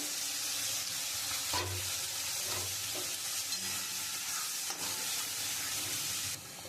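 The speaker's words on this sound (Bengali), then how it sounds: "আমি ওই তেলের মধ্যে এবার এটা দিয়ে দেবো। আমি পুরো একটু শুকিয়ে নেব।" Ground cauliflower-leaf paste frying in hot oil makes a loud, continuous sizzle and hiss, with soft scraping strokes as it is stirred, easing slightly near the end and free of speech.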